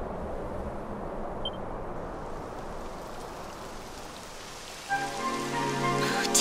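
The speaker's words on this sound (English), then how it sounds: "It would have to go and start raining, wouldn't it?" Steady rain pours down in the fantasy role-playing game Dragon Quest XI, a dense continuous hiss with no voices, joined by a brighter layered tone near the end.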